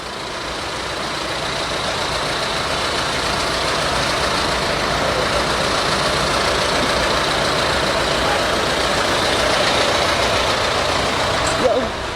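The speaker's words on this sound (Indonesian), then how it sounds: "Ini bus yang ke Blitar." A bus bound for Blitar idles with a steady, broadband engine drone that swells slightly over time, close by, with faint voices mixed in.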